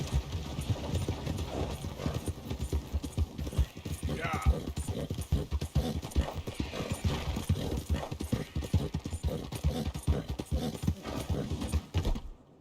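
Horse hooves clip-clop steadily in Red Dead Redemption 2, a continuous rhythmic trot of close, even beats running nearly the whole stretch with game ambience beneath and a brief whinny-like rise midway.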